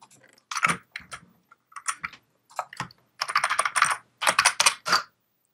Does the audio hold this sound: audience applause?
no